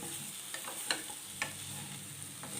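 Pointed gourd (potol) sautéing in a pan makes a low, steady frying hiss, with a few light stirring clicks and taps scattered through it.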